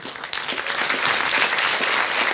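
An audience at the 'Póki radość jest w nas' concert breaks into applause, a steady and fairly loud wash of clapping that swells slightly and holds for a couple of seconds with no voices over it.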